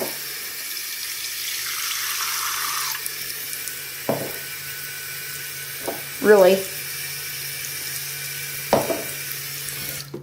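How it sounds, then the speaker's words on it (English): Water runs from a tap into a bowl as a steady hiss for a few seconds, then stops, followed by a few faint knocks and a short word spoken. "we're going to fill it up with some water"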